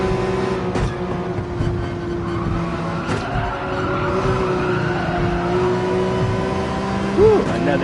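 Race cars in Gran Turismo 7 on the Tokyo Expressway, engines droning steadily with a tire squeal and crash noise under continuous engine roar, a brief skid near the end.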